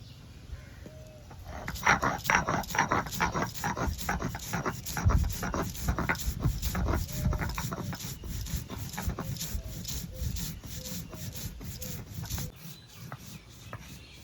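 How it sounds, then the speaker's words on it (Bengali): Black cumin seeds are ground by hand on a flat grinding stone, a steady back-and-forth rubbing and scraping in a regular rhythm, close and moderately loud, continuing for several seconds before stopping. "এখন এগুলো সব বেটে নেব প্রথমে কালো জিরেটা বেটে নেব"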